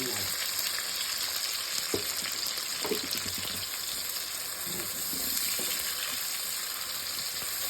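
Brinjal and tomato pieces fry in oil in a pan for a curry, with a steady close sizzle and occasional stirring scrapes throughout and no talking.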